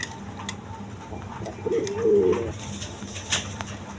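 A single low, rolling coo from a healthy breeding pigeon rises briefly midway, close and moderate in volume, with quiet ambient noise and faint ticks around it.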